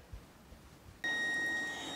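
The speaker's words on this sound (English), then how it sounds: "as y'all can hear, my timer is going off" A household timer goes off after a cleaning session, a sudden steady electronic beep tone that starts abruptly after a second of quiet room noise and holds close and clear.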